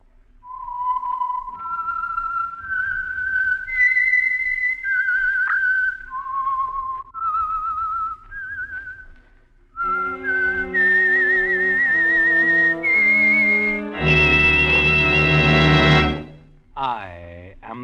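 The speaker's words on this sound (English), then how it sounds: "the signal to listen for is this whistle that identifies the Signal Oil program" The Whistler radio show signature tune: a lone clear whistle climbing and falling through a short tune, then joined by a fuller orchestral chord with a swelling finish.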